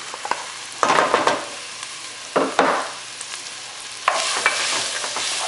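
Chopped garlic and onion stir-fried in vegetable oil, a steady hiss of frying broken by several loud scraping stirs in bursts, close up, with no talking.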